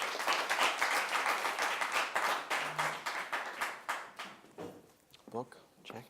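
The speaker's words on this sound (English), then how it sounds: "let's give a warm round of applause for Clay Hard out of the Collegiate School" An audience at a high school poetry awards ceremony gives a warm round of applause for a winner, dense clapping that fades out over several seconds, with a few voices talking near the end.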